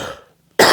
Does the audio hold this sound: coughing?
yes